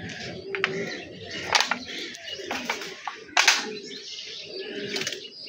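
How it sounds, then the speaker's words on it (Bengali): Pigeons released into the air beat their wings in several short, sharp bursts, fairly close, over a low outdoor background murmur. "দেখতে পাচ্ছেন কবুতরগুলো, আমি একটু দেখেন, মানে ছাড়ার সাথে সাথে কবুতর হাইট নিয়ে ফেলতেছে"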